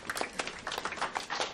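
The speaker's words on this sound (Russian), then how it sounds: "Аплодисменты, пожалуйста." Applause at a celebration honoring a Mexican band, sparse separate claps popping in an uneven rhythm, soft and nearby, from only a few hands.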